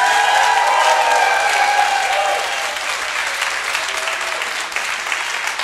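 A large audience at an unplugged concert in Stuttgart applauding and cheering loudly, with a steady wash of clapping that stays strong throughout and eases only slightly toward the end.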